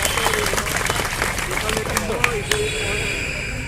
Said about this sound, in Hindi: जोरदार ताली बजाओ भाई